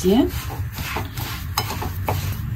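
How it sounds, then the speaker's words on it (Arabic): Hands rub semolina and oil together in a bowl, producing a soft gritty scraping and shuffling that carries on in an uneven rhythm, close and fairly quiet. "ندخل داك السميده مع الزيت مزيان"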